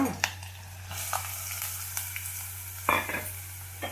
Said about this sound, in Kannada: ಈಗ ಸ್ವಲ್ಪ ಹುರ್ಕೋಣ ಈ ಥರ ಎಣ್ಣೆಯಲ್ಲಿ